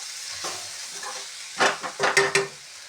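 Masala for soya chunks sizzles in a pan while a spoon scrapes and stirs it, making a quiet fry hiss broken by several louder scraping bursts toward the end.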